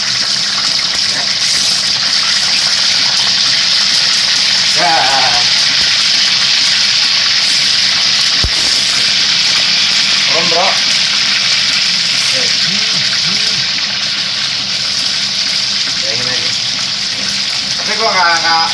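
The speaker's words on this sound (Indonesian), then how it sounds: "Jadi gue goreng aja langsung." Tofu and tempeh frying in a pan make a loud, steady, hissing sizzle that runs the whole time, with faint voices now and then in the background.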